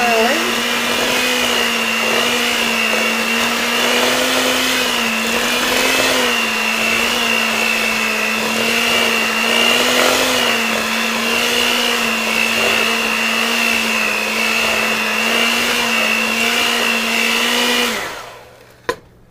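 An electric hand mixer beating flour into a thick oatmeal cookie batter, a loud steady whine with slight pitch wobbles as it works, running continuously before stopping abruptly near the end.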